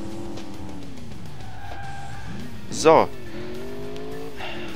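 Racing car in the video game Alarm für Cobra 11 drifting on asphalt, with a steady engine drone, a sharp tire squeal of about a second mid-clip, and someone talking over it.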